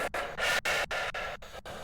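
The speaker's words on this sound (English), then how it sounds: "they also have this unique growl that they give you on the Spirit Box" Raspy, breathy Deogen ghost growl coming through the Spirit Box in the Phasmophobia video game, a string of short hissing bursts cut by brief gaps, fairly quiet.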